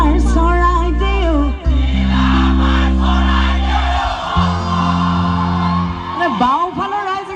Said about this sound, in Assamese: বাওঁফালৰ ৰাইজ একদম সাংঘাতিক ধুনীয়া গাইছে